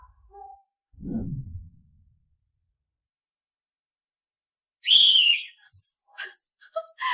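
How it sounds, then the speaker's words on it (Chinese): A shrill whistle blast, blown as a call for help during a scuffle, rings out sharply after a pause, with voices shouting around it. "你真是疯了，还吹哨子喊救命啊"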